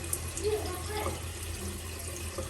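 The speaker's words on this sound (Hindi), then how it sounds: "इस तरह करते जाना है और पानी के नीचे से आपने रिंस करना है।" Tap water runs steadily into a sink while makeup brushes are rinsed under it, a continuous close hiss and splash beneath someone talking.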